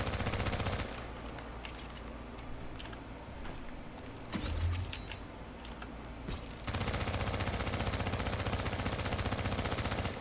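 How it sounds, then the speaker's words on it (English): Sustained automatic assault rifle fire in The Division video game, a long dense burst at the start and another continuous stretch of rapid shots after a quieter gap with mechanical clicks. "So you're gonna shoot like this."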